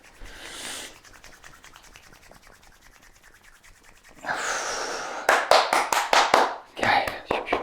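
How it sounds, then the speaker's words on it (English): Hands rub together briskly, a soft dry swishing at first, then louder, rhythmic bursts of friction near the end, close and alone without talk. "let's rub our hands together"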